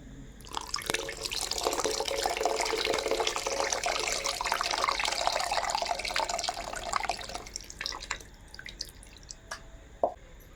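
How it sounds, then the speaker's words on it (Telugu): Water pouring steadily into mushy tamarind pulp for several seconds, a gurgling splashy stream close by, ending with a few small drips and clinks. "ఇంకొంచెం నీళ్ళు పోసి కలిపి పోస్తున్నా"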